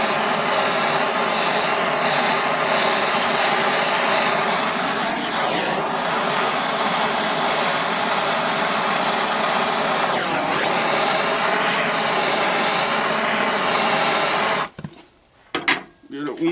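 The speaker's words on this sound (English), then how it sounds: "And then I use a butane torch." A butane torch heats a window regulator part from a 1970s–80s Mercedes-Benz, giving a steady, loud roaring hiss that holds for about fifteen seconds before cutting off into a few quiet clicks and handling noises.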